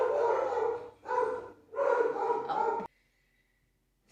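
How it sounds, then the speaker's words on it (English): Dogs bark at a farmhouse in three or four loud, close barks in quick succession, then silence. "You're probably going to hear my dogs bark here in a second."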